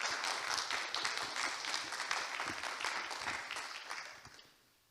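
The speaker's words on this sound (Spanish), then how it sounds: "vamos a darle un fuerte aplauso para empezar con la transmisión a Rafi Tur" An audience applauds warmly to welcome a reflexology speaker before a livestreamed talk, continuous dense clapping that holds steady for several seconds and then fades out.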